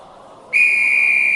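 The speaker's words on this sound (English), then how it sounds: "Immediately, Mr. Benn blew the whistle." A referee-style whistle is blown in a cartoon arena at a gladiator fight: one loud, sustained shrill blast cuts in sharply partway through and holds steady to the end, over a quiet background.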